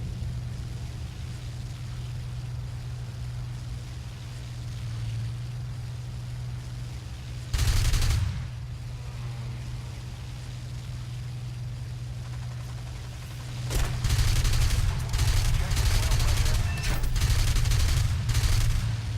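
Rapid bursts of cannon fire from a Messerschmitt Bf 109 F-4 in War Thunder erupt twice over a constant engine drone, the second burst longer and louder.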